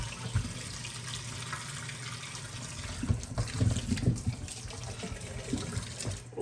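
Running tap water splashes over raw chicken being rinsed in a sink, a soft, steady stream with brief louder splashes midway as the pieces are moved under it, with no talking.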